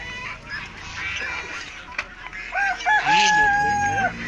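A rooster crows in a long drawn-out call over a busy outdoor background at a pigeon and poultry market in Sakarya, with hens faintly clucking around it.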